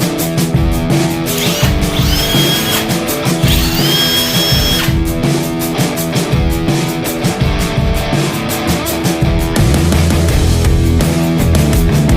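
A power drill whines continuously at close range while assembling an Arrma Talion 6S EXB V2 RC car, its motor pitch shifting as it works, with busy mechanical noise throughout and no voices.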